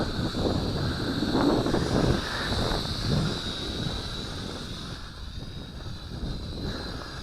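A Syma X5C quadcopter drone flies in a breeze, its small motors giving a thin, steady high whine that rises and falls as it struggles, mixed with gusty wind rumble on the microphone and no talking.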